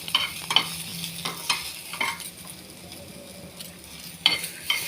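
Ingredients fry in a little oil while a spoon scrapes and stirs the pan, producing irregular close clicks and scrapes over a soft continuous sizzle, without any talking.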